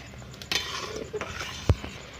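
A spoon stirs thick ground date paste in a pan while it dries down, with a few brief metallic clinks and scrapes against the pan, close and sparse, and no one talks.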